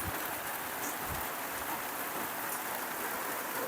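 Heavy rain pouring onto a rural field in Laos, a dense, constant hiss of drops that is loud and close, with no talking.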